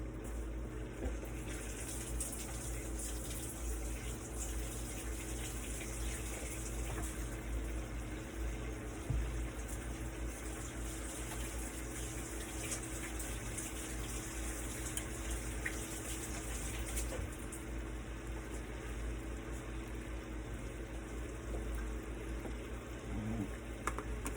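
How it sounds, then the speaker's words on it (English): Hands washed under a running kitchen tap: a steady, continuous rush of water lasting the whole stretch, close and even, with no voices. "Wash my hands real quick."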